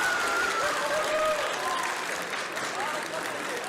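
Supporters of rival teams cheering and applauding in an arena at a European karate championship juniors team semifinal, with a continuous, moderately loud crowd roar and applause and a commentator talking over it.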